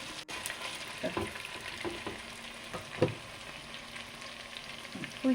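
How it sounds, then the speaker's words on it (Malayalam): Chicken pieces frying in a small amount of hot oil for fried rice, giving a steady close crackling sizzle with a few louder pops and light utensil touches throughout. "ഇപ്പം എണ്ണ ചൂടായിട്ടുണ്ട് നമുക്ക് ചിക്കൻ ഇതിലേക്ക് ഇട്ട് കൊടുക്കാം"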